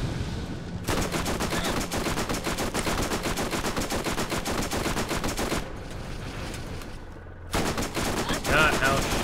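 Rapid, sustained SMG fire in Borderlands rattles loud and close in long continuous bursts, pausing briefly before another volley, with a voice talking faintly underneath.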